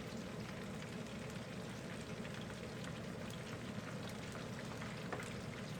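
Coconut shrimp frying in oil on its second side, a soft, even, rain-like hiss of sizzling that stays faint and steady without breaks.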